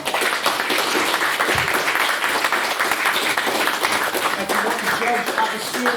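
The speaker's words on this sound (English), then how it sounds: "another round of applause for them" An audience at a debating society's 170th birthday event gives a full round of applause for the speakers, a dense, steady wash of clapping at close range, with a few voices faintly audible beneath it.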